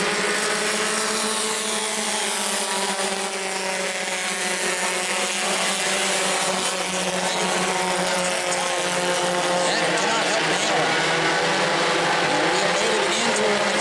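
Bomber-class race cars roar back to full throttle on a green-flag restart at New Smyrna, several engines droning loudly together with rising, overlapping pitch as the pack accelerates past.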